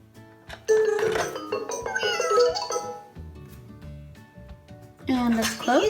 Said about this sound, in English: It's a little cat.